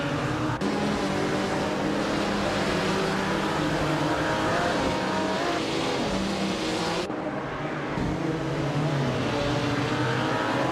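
Race car engines in a racing video game with AI-driven cars, a loud continuous droning roar of several engines revving and passing, steady throughout with no talk.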